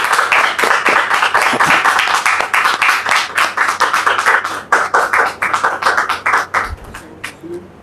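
A studio audience on a French television talk-show set claps loudly for an arriving guest, a dense, steady burst of many hands that thins and fades toward the end.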